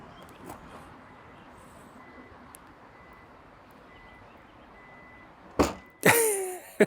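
A 2025 Kia Niro smart liftgate gives short, sharp beeps close by, then a brief mechanical burst as it pops open, after a quiet, faintly humming stretch.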